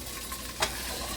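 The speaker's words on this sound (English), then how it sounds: "you can see how hot it is because it's sizzling as I pour them in there" Carrots poured into hot oil in a pan for chicken fried rice give one brief bright burst of sizzling, close and loud, then a steady low background hiss.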